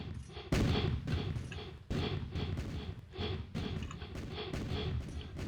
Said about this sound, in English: You could hear them shooting each other. All the guns and the cannon fire.